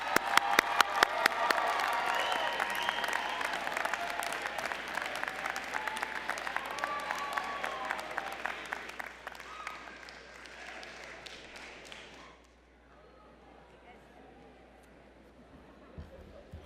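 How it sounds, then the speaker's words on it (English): Audience at a university fall commencement applauds the graduates, loud sustained clapping with some cheers that gradually thins and fades out toward the end. "Everyone, please join me in applauding these outstanding graduates."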